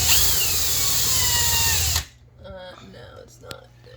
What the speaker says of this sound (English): Just hold it there and it'll drill through